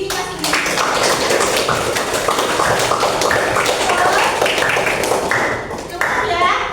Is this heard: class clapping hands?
yes